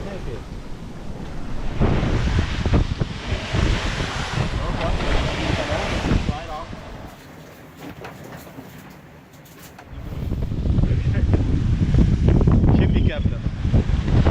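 Wind buffets the microphone aboard a Swan 47 sailboat on an overnight sea passage to Portimão in the Algarve, a loud continuous rush mixed with water noise that eases briefly midway before surging back.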